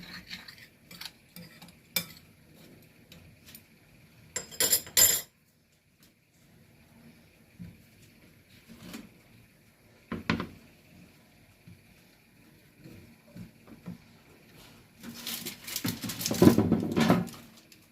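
Zucchini slices being laid out one by one on an oven tray, with scattered soft taps and scrapes, a couple of louder clattering bursts, and a busier rustling stretch near the end, close and without talk.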